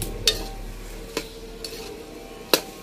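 Keema with finely chopped potatoes cooks in a pan over a wood fire, with a faint sizzle under a few sharp metallic clinks and scrapes as a spoon strikes the pan.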